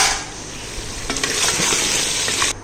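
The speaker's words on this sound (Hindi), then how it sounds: "इसको अच्छी तरह और भून लेंगे" Mutton curry with spices fries in a pan, a loud close sizzle as it is stirred, with a few soft scraping knocks against the pan partway through.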